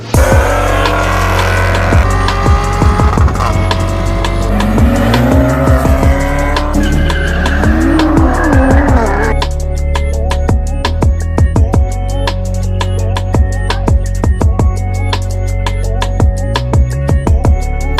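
A car fitted with an AAM 3-inch exhaust passes by loudly, its engine note rising and falling as it goes, then a steadier, thinner tone with rapid ticking follows, with no talk.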